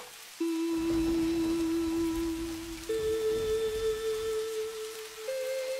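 Soft, steady rain patters in the background beneath sustained musical tones that shift pitch a couple of times.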